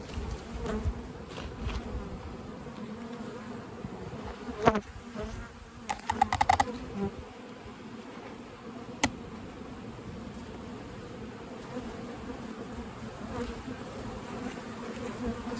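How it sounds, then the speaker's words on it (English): A dense, steady buzz of many honeybees fills the air, with a few sharp clicks and taps partway through. "Lots of bees in here."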